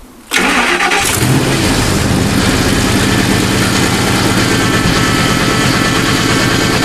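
A Ford fuel-injected V8, idle for two and a half years, cranks briefly and then catches, settling into a loud, steady rumbling idle heard up close with no talking.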